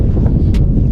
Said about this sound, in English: Sorry about the wind. I know that it's kind of windy